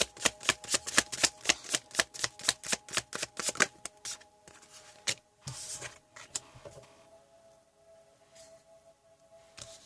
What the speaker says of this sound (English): Let's get some tarot cards and see what else is happening for pile number 1.